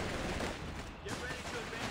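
Suppressive gunfire in a war strategy game: dense, continuous bursts of rapid shots and rattling automatic fire, heard loud and close with chatter mixed in.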